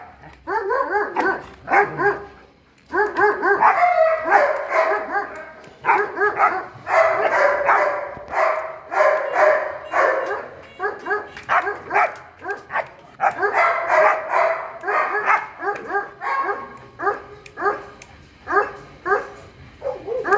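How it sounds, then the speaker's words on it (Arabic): A Malinois dog suffering a seizure and biting at anyone nearby barks repeatedly in loud, close bursts with yips and whimpers, irregular clusters of barking separated by brief pauses. "تحاول تسمع المشاهدين هل الكلب بيطقطق ولا لا؟ يعني بيعض ولا لا؟"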